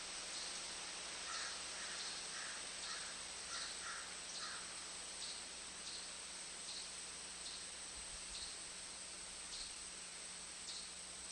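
Crows caw outdoors, about a dozen short calls in loose clusters at a moderate distance, heard over a steady background hiss.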